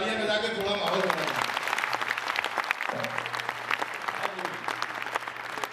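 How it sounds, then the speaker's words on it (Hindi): Audience applause at a Hindi comedy poetry show, a voice fading out at the start as a crowd's clapping swells and continues steadily for several seconds, with a low hum underneath. "ये एक बार तालियां बजा के थोड़ा माहौल बनाओ।"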